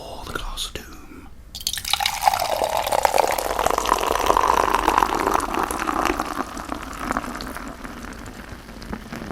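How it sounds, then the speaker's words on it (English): A drink poured from a freshly opened bottle or can into a glass, a steady trickling and fizzing stream building and then slowly settling, close and fairly quiet with no talk. "let's open this up and pour it into Skeletor, the Glass of Doom."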